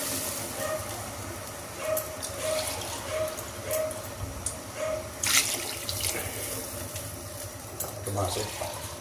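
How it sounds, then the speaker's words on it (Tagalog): Water poured into a cooking pot while making chicken arroz caldo, a continuous splashing and running flow with a few clinks, close and fairly loud, with someone talking over it. "Maglagay na tayo ng tubig."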